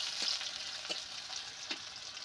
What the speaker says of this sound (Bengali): মাছ ভেজে যে তেলটা বেঁচে গেছিলো সেই তেলে আমি পেঁয়াজগুলো দিয়ে দিয়েছি